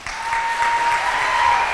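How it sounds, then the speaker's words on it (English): Audience applause at a graduation ceremony, a dense, loud wash of clapping from a crowd that holds steady throughout. "Please give her a warm round of applause."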